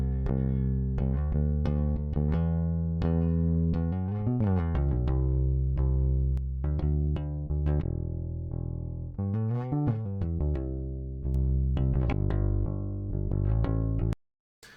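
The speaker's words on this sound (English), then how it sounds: "So that's me on the bass, by the way." Bass guitar playing within a full rock song mix, steady sustained low notes with slides under dense accompanying instruments, loud and continuous before cutting off abruptly near the end.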